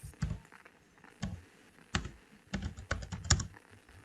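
Typing on a computer keyboard while writing HTML and CSS code, with irregular bursts of close, crisp key clicks and a few heavier thumps, no talking.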